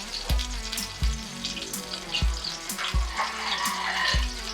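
Leftover garlic frying in a little water and oil in a pan, a steady close sizzle with recurring low thumps and clatter from stirring.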